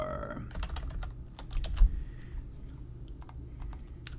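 Close, quiet typing on a computer keyboard while writing C# code, with quick irregular clusters of key clicks over a low hum.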